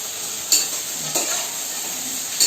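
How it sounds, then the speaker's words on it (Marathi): Ginger, garlic and cashews sizzle steadily in hot oil in a pan, with three sharp scraping clicks of a spoon stirring them at irregular intervals, close and clear with no voices. "आता हे थोडं आहे ना जरा ढवळून घ्यायचं"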